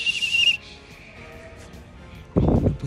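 A shrill whistle blast sounds briefly at the start at a children's piñata party, then a fainter trailing tone, followed by a short burst of noisy rustling near the end.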